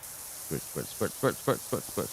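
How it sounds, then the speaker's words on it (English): A pressure washer sprays in short, repeated hissing bursts in the Powerwash Simulator video game. About seven rhythmic spurts sound close and fairly loud over a steady background hiss. "Just gonna have to do a general spray down first."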